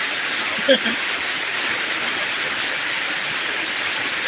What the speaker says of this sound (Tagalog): Kasi malakas na rin ang ulan. Maingay na ang bubong.